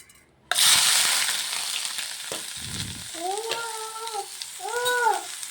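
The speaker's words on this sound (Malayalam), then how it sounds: "ഞാൻ ഇഞ്ചി ഇട്ട് കൊടുക്കുകയാണ്" Ginger hits hot coconut oil in a heated pan with a sudden loud burst of frying that settles into a steady crackling sizzle, with a few clinks and scrapes along the way.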